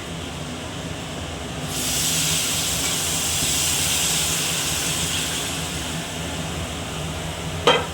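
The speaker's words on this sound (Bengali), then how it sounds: "এবারে আমি গরম জল দিয়ে দেব" Hot water hits a frying cumin and chili spice paste and bursts into a loud, broad hissing sizzle that swells and then holds steady for several seconds, close by, with a sharp clatter at the very end.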